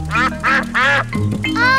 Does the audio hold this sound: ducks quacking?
yes